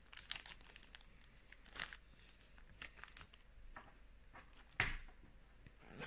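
A Pokémon card booster pack is torn open and handled, with close, quiet crinkling and a few sharp foil rips scattered over several seconds.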